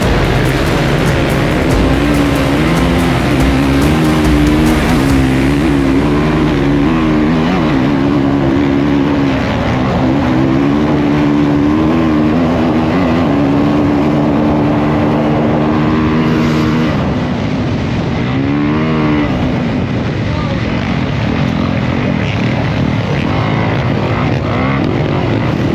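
Enduro motorbikes racing flat out across very soft sand on the beach at the Enduropale in Le Touquet, a loud, continuous engine roar with rising and falling pitch from several machines, steady throughout.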